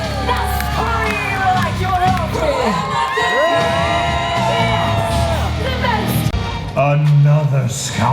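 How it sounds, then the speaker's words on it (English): A crowd at a Disney Hollywood Studios show cheers, yells and whoops loudly and continuously, with children shouting and amplified show voices and music running through the noise. "Now scream like you're hungry."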